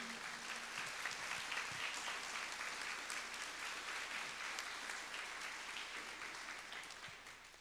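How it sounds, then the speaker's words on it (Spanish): A crowd applauds steadily at a book presentation, dense clapping from many hands filling the room for several seconds, with a slight fade at the end. "Pido un muy fuerte aplauso a la moderadora del día de hoy."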